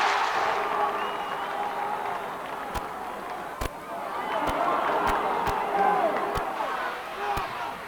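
A stadium crowd roars and cheers at a 2001 All-Ireland Gaelic football championship match, a broad sustained swell of voices with sharp claps and bangs cutting through and a commentator talking over it.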